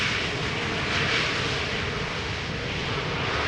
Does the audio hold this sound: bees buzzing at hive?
no